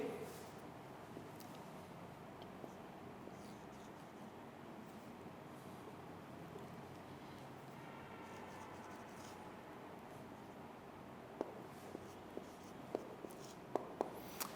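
Pen or chalk writing during an English lecture, faint scratchy strokes over a quiet room hum, with a few sharper taps toward the end.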